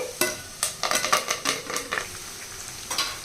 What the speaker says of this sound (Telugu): కరివేపాకు బాగా వేగాలి